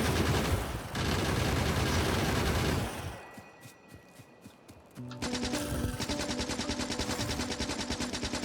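Rapid machine-gun bursts fire at biters in Factorio, loud and dense, then drop to a few sparse shots before a renewed sustained stream of fire.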